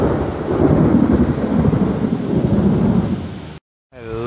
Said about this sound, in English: I love good thunderstorms.